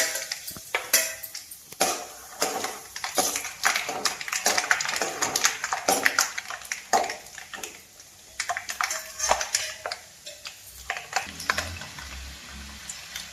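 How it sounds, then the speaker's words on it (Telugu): Dried red chillies and peanuts tossed into hot oil for temple-style pulihora tempering, with a steady spitting sizzle broken by repeated clattering of a ladle against the pan, close and fairly loud, no talk. "ఆయిల్ వేడయిందండి దానిలో ఒక ఐదు ఎండుమిరపకాయల వరకు వేసేస్తున్నాను ముందుగా అలాగే కొంచెం పల్లీలు పల్లీలు కూడా వేసేస్తున్నాను"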